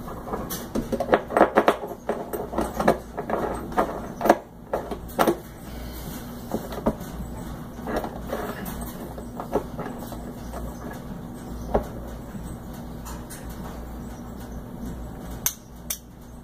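A Mosin-Nagant rifle bolt is worked back and forth repeatedly, giving a run of close metallic clacks and sliding clicks that are louder and busier at first, then sparser, with no talking.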